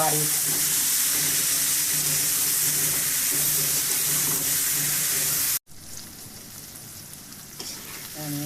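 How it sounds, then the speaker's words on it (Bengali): Pumpkin pieces fry in a pan in a steady, loud sizzle, with a brief cut partway through before the frying resumes a little quieter, and no talking. "এখন আমি মিষ্টি কুমড়াগুলো ভেঙে দিলাম"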